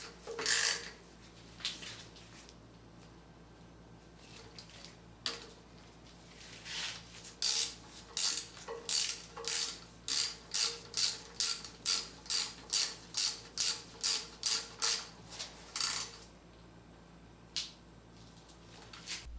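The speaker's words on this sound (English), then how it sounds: "I'd recommend using a 1/4-inch drive ratchet to tighten these bolts" A 1/4-inch drive ratchet snugs bolts on the power steering pump of a 1994-97 Honda Accord, a few scattered clicks at first, then a steady run of close, crisp ratcheting clicks in quick rhythm before it stops.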